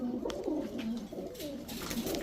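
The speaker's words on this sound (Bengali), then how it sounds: "এখন দেখাবো হোয়াইট গ্রিজেল রেসার একটা নর কবুতর, এখনই পালাইতে চায়" A male white grizzle racer pigeon coos close by in soft, repeated low rolling notes, with faint background rustle and no speech.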